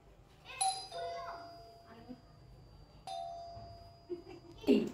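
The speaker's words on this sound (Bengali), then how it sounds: "আগে আমরা কলিং বেলটা বাজে।" A doorbell chimes twice, a clear two-tone ring near the start and another about halfway through, with children's voices and household noise around it.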